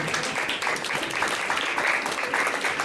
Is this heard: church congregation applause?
yes